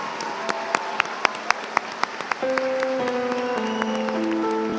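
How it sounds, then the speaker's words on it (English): A few scattered, sharp claps ring out in a large room at a commencement ceremony, then sustained instrumental music begins and carries on steadily. "Let's commend our baccalaureate graduates with a round of applause"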